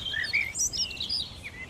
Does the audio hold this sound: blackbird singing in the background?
yes